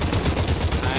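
Rapid, dense Uzi submachine gun fire in the VR battle royale game Population One, a close, loud continuous burst of evenly spaced shots filling the whole moment.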